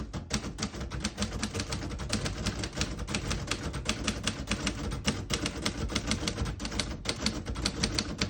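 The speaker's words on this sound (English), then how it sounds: "Beautiful typing machine." Rapid, steady keystrokes on a 1939 Royal vintage portable typewriter clatter up close, dense and continuous with a crisp mechanical snap on each strike.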